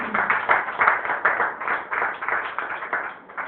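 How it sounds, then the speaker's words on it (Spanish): A church congregation claps in steady, rhythmic unison, a dense and fairly loud patter of many hands that continues without a break. "Démosle un fuerte aplauso al Señor."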